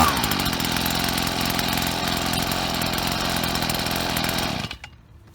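A STIHL BG50 leaf blower's two-stroke engine runs off choke with a loud, steady, buzzing drone that cuts out abruptly near the end.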